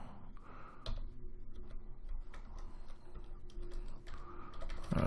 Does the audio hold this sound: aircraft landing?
no